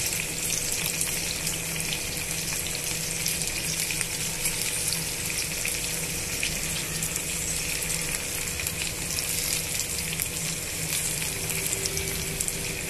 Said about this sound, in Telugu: ఉల్లిపాయ ముక్కల్లో పచ్చిమిరపకాయ ముక్కల్లో ఈ విధంగా పిసికి వేసేస్తున్నామండి.